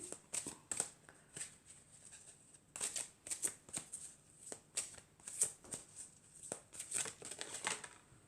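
A deck of oracle cards is shuffled by hand, producing quiet, close, irregular bursts of crisp riffling and flicking with short pauses between them and no voices.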